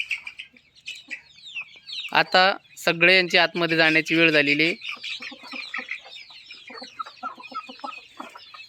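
Free-range desi village chickens cluck and squawk nearby, with a burst of loud, harsh rooster-like calls in the middle amid scattered chirps, while someone talks over them.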